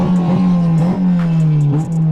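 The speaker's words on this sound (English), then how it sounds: "another thing that is awesome about this car is the revs" A 2008 Honda Civic Si sedan's engine revs hard and close, holding a high, strained drone with brief dips between pulls.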